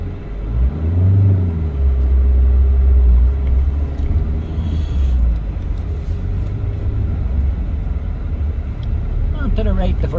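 A Jaguar X-type engine revs and rumbles in low gear from inside the car, loud and close, rising and falling with the throttle, while someone talks over it.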